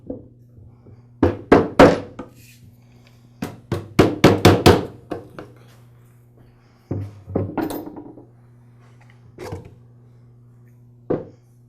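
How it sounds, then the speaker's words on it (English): A screwdriver taps the motor field out of the housing of a DeWALT DW718 miter saw, making clusters of sharp metallic knocks, close and loud, separated by quiet pauses and a low hum. "I'll just gently tap the field away from the motor housing"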